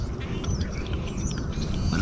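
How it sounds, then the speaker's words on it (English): Ducks quacking as they fly in toward hunters out on the water, the calls fairly close and repeated over steady outdoor background noise. "These are ducks."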